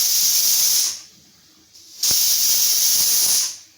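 A pressure cooker with black urad dal inside vents steam in loud, harsh hissing bursts: one long blast, a brief quieter lull, then a second strong release that cuts off near the end.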